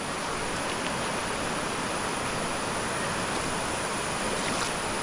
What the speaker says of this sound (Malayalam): മൂന്ന് പുഴയുടെ സംഗമമാണ് ഇവിടെ ഉള്ളത്